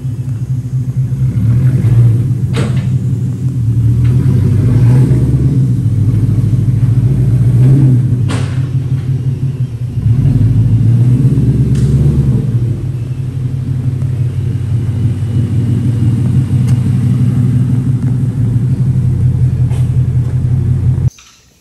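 Ford Mustang rolling slowly onto an alignment rack, its engine a loud, deep rumble close by, swelling with throttle a few times before cutting off at the end.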